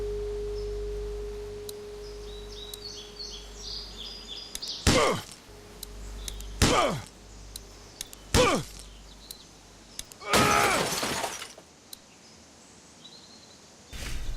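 Window glass struck and shattered in The Walking Dead game, a series of four sharp impacts with crunching breaks spread over several seconds, the last one longest, over a quiet hum.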